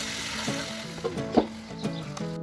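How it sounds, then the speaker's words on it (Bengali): Chicken pieces sizzling in a wok over a clay stove, a soft steady frying hiss with a few brief scraping stirs and clinks, fairly close and with no talking. "এখন মাংসগুলো কড়াইতে দিয়ে ভালোভাবে কষিয়ে নেব"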